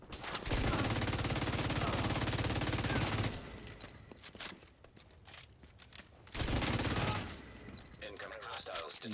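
Sustained bursts of automatic gunfire from The Division 2 shooter game, loud and dense, dropping away mid-clip before a second heavy volley, with scattered shots and game effects in between.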